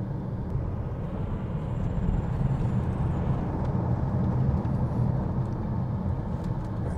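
Tesla Model S Plaid climbing a hill at light throttle, a steady low road and cabin rumble with soft wind noise, heard from inside at even volume with no voices.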